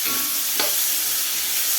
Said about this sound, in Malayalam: ഇനി ഉള്ളി അല്പം ഉപ്പും ചേർത്ത് വഴറ്റിയെടുക്കാം.